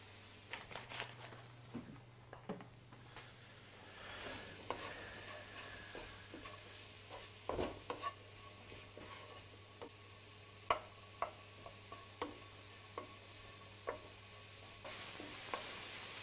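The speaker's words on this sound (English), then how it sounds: "So this isn't going to need too much sautéing." Pork sautéing in a pan for a pesto-stuffed paleo dish, with a soft continuous sizzle and repeated scraping stirs and clicks of a utensil against the pan, fairly quiet and close, with no voices.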